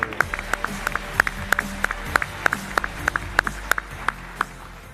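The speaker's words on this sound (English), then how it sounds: "Let's give him a round of applause." An audience at a global forum event claps, heard as a steady series of sharp, evenly spaced claps that sounds more like a few people nearby than a dense crowd.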